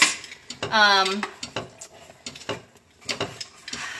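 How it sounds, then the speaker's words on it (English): Utensil clinking and scraping against a pot while caramel for caramel popcorn is stirred off the heat, a few uneven close knocks and scrapes over about four seconds with a brief harmonic squeak early on. "I'm still stirring it because I don't want that to scorch."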